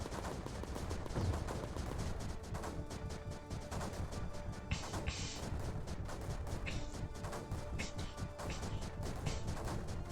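Mortar fire in the strategy game Creeper World 4 comes as repeated sharp, cracking booms and impacts in dense irregular bursts, close and fairly loud over a busy game soundscape.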